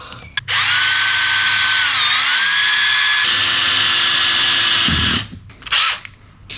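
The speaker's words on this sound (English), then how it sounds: "This is to countersink it, so the screw isn't left up high." A power drill countersinks a hole for 2.5-inch screws in the metal trim of an oak side step, letting out a loud, close, high-pitched whine for several seconds that shifts slightly in pitch before stopping, followed by brief clatter.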